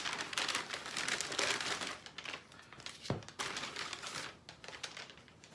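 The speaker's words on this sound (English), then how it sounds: "So, I've got the brown paper bag. Let's open it up and see what I got." Brown paper bag from a comic shop being opened, a continuous run of close, loud crinkling and rustling paper with sharp crackles and one brief pause midway.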